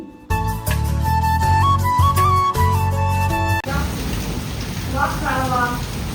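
Rain begins falling outside as the weather suddenly turns, a steady wash of hiss that sets in after a stretch of music, with a voice talking over it.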